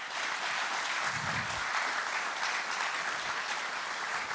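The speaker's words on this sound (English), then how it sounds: "while we're clapping, let's continue clapping for Thea" Steady applause from a conference audience at a DevOps event in Amsterdam, dense and continuous clapping filling the room for several seconds without a break.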